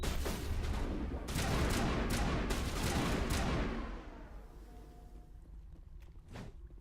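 Rapid rifle gunfire in the video game Mass Effect Legendary Edition, a loud burst of shots and blasts that fades after a few seconds into quieter ambience with one more distant crack near the end.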